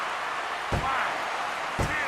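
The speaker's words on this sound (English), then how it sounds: "Oh, there's that neck breaker." Two heavy thuds from a neck breaker slam in the wrestling video game Fire Pro Wrestling, spaced about a second apart over a steady bed of crowd noise, with no talk.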